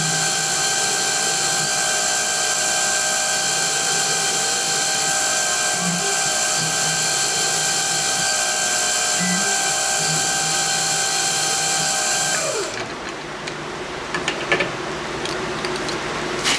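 A drill bores holes in a copper dome for a steampunk clock build; a steady, high whining drill tone holds for about twelve seconds, then winds down to quieter workshop handling noise.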